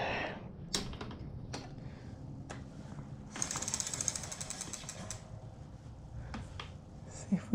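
Posts loosened by hand during a fat trike build, giving scattered close metallic clicks and ratcheting taps with a busier rattling stretch in the middle, quiet and irregular.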